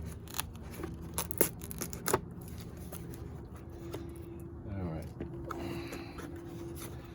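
Snips of scissors cutting open a plastic parts package containing a Briggs & Stratton EX engine replacement gasket, several sharp close cuts and crinkles, followed by plastic rustling as it is pulled open.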